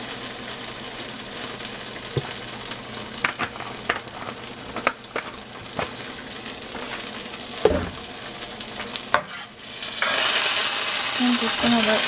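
Butter and a little oil sizzling in a pan while making shrimp and spinach penne Alfredo, a steady close frying hiss with scattered clinks and stirring knocks, swelling louder near the end.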